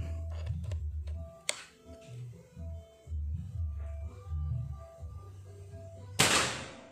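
Two sharp, cracking PCP air rifle shots, one early and one near the end, against a low hum and background activity.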